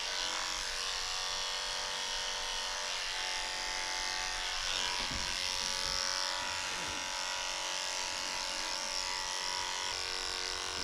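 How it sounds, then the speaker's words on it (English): Electric clippers fitted with a 10 blade buzz steadily and close up while shaving the rear of a Maltese dog, a continuous loud whine that dips slightly as the blade works through the coat. "I'm shaving his poo-poo area with a 10 blade so it's nice and short back here"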